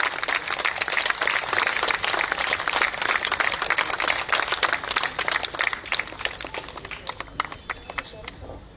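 Crowd applause at a live political gathering, a dense steady wash of many hands clapping loudly and continuously, tapering slightly toward the end.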